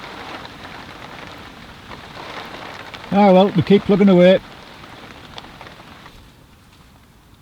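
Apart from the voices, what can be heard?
rain falling at a carp fishing lake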